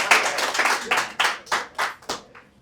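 Audience at a real estate development talk claps in a series of sharp, distinct bursts that thin out and fade toward the end, with no speech over it.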